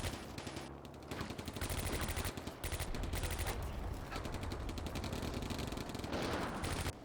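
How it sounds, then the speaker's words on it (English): An anti-aircraft gun in Combat Mission: Barbarossa to Berlin hammers out continuous rapid bursts, loud and close, with dense overlapping shots and no pause. "let's see what just happened with the, our anti-aircraft gun"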